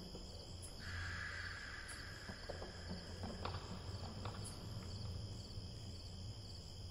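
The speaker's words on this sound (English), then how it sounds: "Anyone else notice the cicadas have been super weird with their calls for the last few nights." Cicadas calling at night in a summer-camp video game, a faint, steady high-pitched insect drone with soft scattered chirps over low background ambience.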